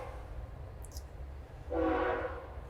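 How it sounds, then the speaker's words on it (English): A loud train passes at a distance with a low continuous rumble. Partway through, a sustained horn blast swells in and holds, standing out over the steady background noise. "That's a loud train."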